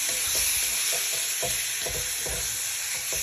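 Garlic and onion fry in rendered pork fat, a steady hissing sizzle broken by regular scraping stirs in the pan, up close with no voices.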